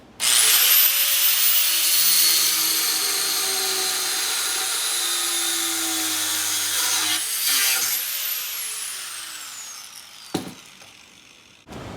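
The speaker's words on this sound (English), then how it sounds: "And we got to cut off the excess here also" A loud, high-pitched power tool whines steadily as it cuts excess metal off an exhaust bracket on a 1926 Oakland, its pitch sagging under load and then rising again, ending with a sharp knock.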